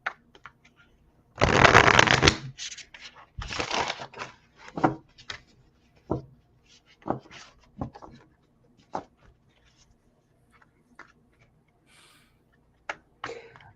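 Cards for a reading are shuffled close up: a dense riffling burst, then a second one, followed by scattered soft taps and snaps of cards being handled and laid down in a quiet room.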